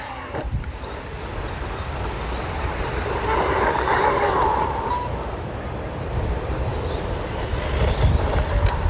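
A HAIBOXING 2997A brushless 1/12-scale RC truck drives outdoors with a continuous motor whine and rumble that swells and fades as it moves, tires crunching over rough ground, no talking.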